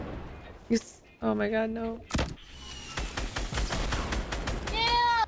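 Fortnite gunfire comes as a quick run of sharp, regular shots in the middle of the game action, mixed with other game sounds and excited voices talking over it.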